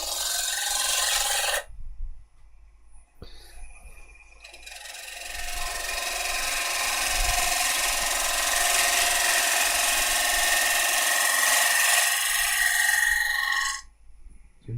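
Unknown wood spinning on a lathe as a chisel bevel rubs and shapes it, giving a steady close rasping hiss that starts after a short gap and runs for about ten seconds before cutting off.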